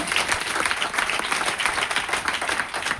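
An audience in a motivational seminar hall bursts into loud, steady applause, many hands clapping together in a dense, even roar close by.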